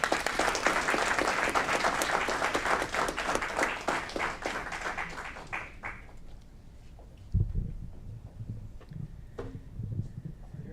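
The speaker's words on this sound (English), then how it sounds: "Let's give them a round of applause." Loud round of applause from a city council meeting audience in Aurora, dense clapping for about six seconds before fading to scattered claps and room noise.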